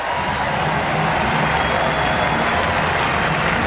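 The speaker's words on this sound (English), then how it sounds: "soaking up the applause" Convention crowd at the Democratic National Convention applauding Jimmy Carter as he takes his bow, a dense, steady roar of clapping and cheering that fills the hall throughout.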